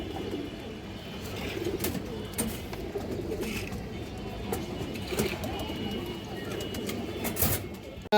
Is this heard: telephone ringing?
no